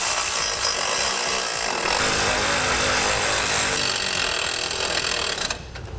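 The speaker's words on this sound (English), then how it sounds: "Now we'll start to snug these nuts on down." Continuous loud grinding, rasping power-tool noise running nearly six seconds while nuts are snugged onto the brackets of Firestone Ride-Rite air helper springs on a 2013 Ford F-150, cutting off near the end.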